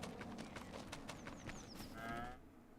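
Cattle lowing in the farming game Farming Simulator 25, a few drawn-out moos heard up close with faint farmyard clatter in the background.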